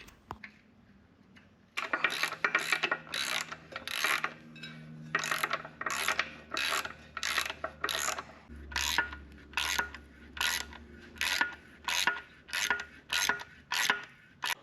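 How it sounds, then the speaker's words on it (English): Rapid rhythmic clicking of a ratchet on a deep socket tightening nuts on the lower unit of a Mercury V6 outboard, in steady repeated bursts of close ratcheting strokes with no talk. "tighten it down with a ratchet on a deep socket"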